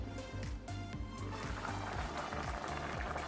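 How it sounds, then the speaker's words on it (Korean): Water bubbles at a soft, continuous boil in a covered pot of potatoes and carrots on medium heat, cooking for a chicken stew; the sound is quiet and close, with no talking. "뚜껑을 닫고 중불에서 15분간 끓여줍니다"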